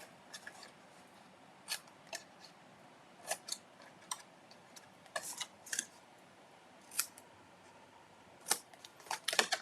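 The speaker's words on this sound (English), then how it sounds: "we're going to trim those tabs also, angle cut them" Scissors trimming and angle cutting paper tabs, a series of crisp, separate snips spread irregularly across a quiet background.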